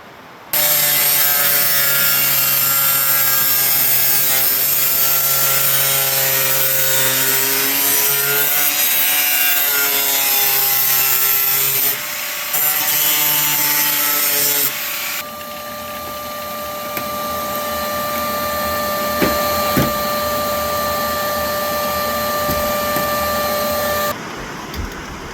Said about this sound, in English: I'm going to take an angle grinder and I'm going to grind this off